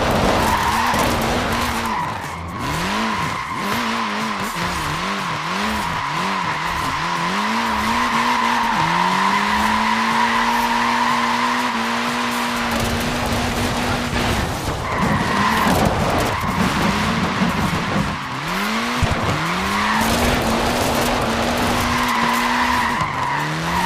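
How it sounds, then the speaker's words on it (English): Mini car tyres skid and squeal in the Forza Horizon 4 racing game, with a loud, sustained engine whine under repeated screeching slides and a few short bursts and pauses. "Look at that, laying down some rubber there."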